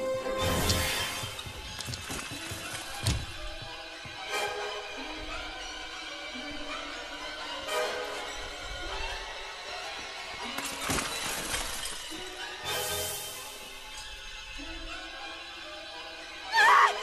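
Glass shattering and crashing in the horror video game Friday the 13th, several sharp breaking bursts with tinkling shards scattered over about seventeen seconds amid game ambience, with a loud crash near the end.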